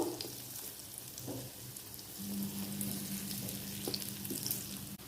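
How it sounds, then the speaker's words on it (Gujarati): Moong dal vada fry in hot oil with a continuous, gentle crackling sizzle, close but quiet, marked by occasional faint bubbling pops and light utensil taps. "અહીંયા આપણા બીજા પણ દાળવડા એકદમ સરસ તળાઈ રહ્યા છે"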